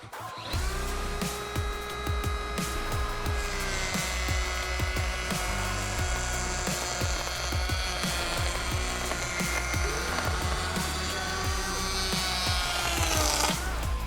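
A jammed Milwaukee planer cuts into an oak board, giving a loud, steady mechanical whine with gritty cutting noise that holds for about fourteen seconds, then rises briefly in pitch near the end.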